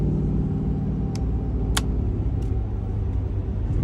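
A 2008 Ford F450 pickup with a 6.4L engine cruises at highway speed in tow haul mode, giving a steady, loud low road and engine rumble throughout with a few brief higher ticks on top.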